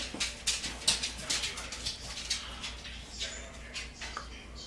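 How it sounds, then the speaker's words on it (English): Light clicking taps of a dog's claws on a hard floor, irregular quick steps moving about nearby, with a soft hum underneath. "If you hear a dog walking around,"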